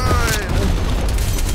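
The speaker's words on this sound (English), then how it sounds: "Sit rep, napalm strike inbound." A napalm strike detonates in a video game, a dense, loud, rumbling roar of fire and blast that fills the whole moment without letup.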